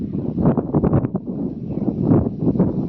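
Rough, gusty wind buffets a hilltop at Sirumalai near Dindigul, Tamil Nadu, a low rumbling roar that rises and falls in uneven surges with no voices.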